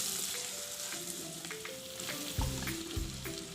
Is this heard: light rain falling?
no